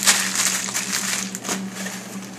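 Newsprint is crumpled by hand for kindling in a small wood-burning stove, giving close, dense crackling and crinkling in quick bursts over a low steady hum.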